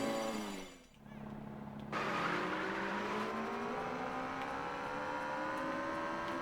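Kart engine in Mario Kart World hums steadily as it drives, rising in pitch through a gradual acceleration after a brief dip, with game music layered underneath.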